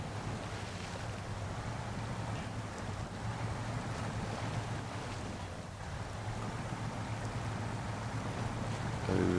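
A truck in SnowRunner churns through deep water, a steady, loud rushing and sloshing wash over a low engine rumble, continuous throughout with no voices.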